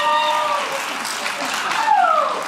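Audience applause at a stand-up comedy show, with steady, dense clapping and a few whoops running through the full couple of seconds.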